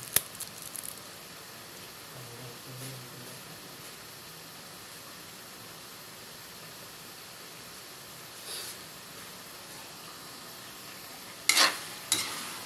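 Ground pork frying in a pan gives a faint, steady sizzle, with occasional soft stirring scrapes and a short louder clatter near the end.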